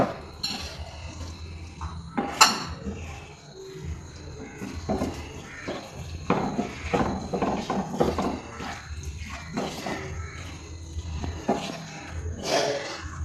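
Homemade mango pickle mixed in a pot, repeated close clinks and scrapes of a spoon against the metal with wet squishing in an uneven rhythm, moderately loud with no talking.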